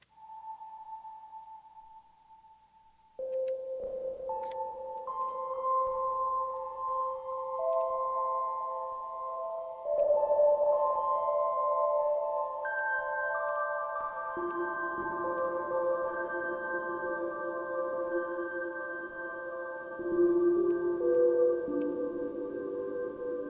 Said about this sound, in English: So this is preset 1 of the Octacosm.